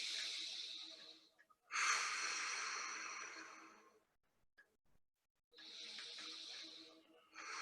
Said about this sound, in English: Few more breaths like this in silence, just breathing in, tummy expands,